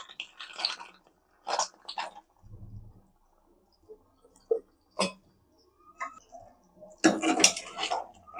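Ghee-fried cashews go into a pan of kaju masala, sparse clinks and clatters of spoon and nuts against metal with short quiet gaps between them.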